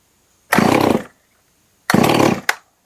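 A Stihl MS311 chainsaw engine at half choke fires up in two loud, close bursts of roughly half a second each, separated by a silent gap, followed by a very brief third blip as it struggles to keep running.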